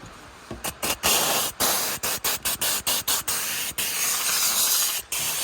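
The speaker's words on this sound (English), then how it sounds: "let me go ahead and grab my steamer. Always purge it" A handheld steamer purges in a string of sharp hissing bursts, loud and near, some short and clipped, others longer, all separated by brief gaps.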